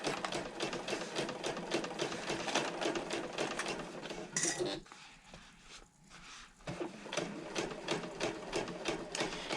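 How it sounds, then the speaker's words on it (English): Sewing machine stitching a handbag panel in fast rapid bursts, stopping briefly mid-run with a pause and pivot before the needle resumes its steady close clatter. "pivot again, and sew up the other side"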